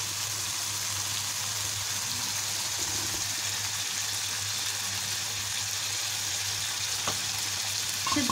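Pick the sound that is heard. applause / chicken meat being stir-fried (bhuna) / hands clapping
chicken meat being stir-fried (bhuna)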